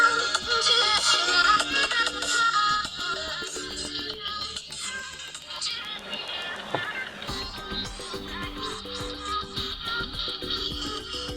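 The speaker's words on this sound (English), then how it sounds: "we'll need to play some music" Music plays from the back speaker of a Ulefone Armor X7 Pro rugged phone, thin and tinny with a steady beat and melody running continuously at moderate volume.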